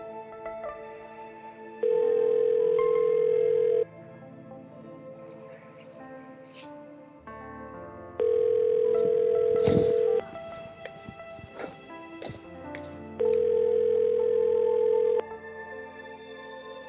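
Ringback tone of a phone call that goes unanswered: three long, steady electronic tones, each about two seconds, separated by longer pauses, over faint background noise.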